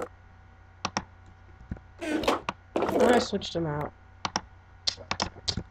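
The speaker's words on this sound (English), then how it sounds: "Oh, I'm using a laptop too, guys. That's why you hear me clicking" Clicks on a laptop during Minecraft play come as sharp scattered taps in short bursts, with a person talking in between and over them.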